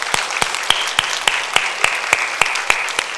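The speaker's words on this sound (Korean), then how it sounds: "박수로 영광 올려드리겠습니다." A church congregation claps together at the close of a Sunday worship service, with sharp, evenly spaced claps in a steady unison rhythm, loud and close, with no talk.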